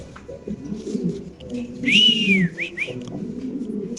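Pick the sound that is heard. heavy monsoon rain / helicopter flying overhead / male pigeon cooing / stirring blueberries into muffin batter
male pigeon cooing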